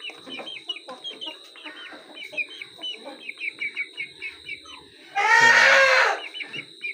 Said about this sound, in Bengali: সব মুরগি এখানে কাঠের খাঁচায় মুরগিগুলো আছে।